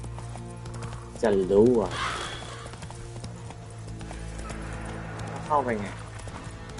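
Roach the horse trots through Witcher 3 with steady, close hoof clip-clops and a brief whinny, under someone speaking Thai.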